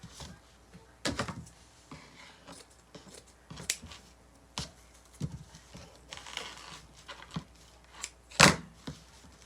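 Scissors cut material for a red, white and blue spiral wreath, giving faint, scattered snips and rustles up close, with a louder crisp snip near the end in a quiet room.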